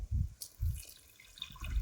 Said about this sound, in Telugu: దీంతో 4 కప్పులు వాటర్ అయితే ఇక్కడ పోయాలి. మనం పోస్తున్నాం.